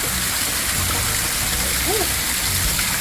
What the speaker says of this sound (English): Natural waterfall on the roadside.